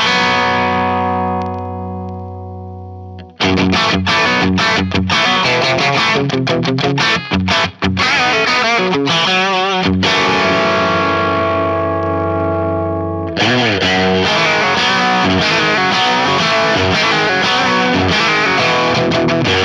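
Electric guitar on the bridge pickup through an Axe-Fx III Marshall Plexi amp model, a loud distorted sustained chord ringing out, then bursts of driven riffing and chords with brief pauses, played alone without talk.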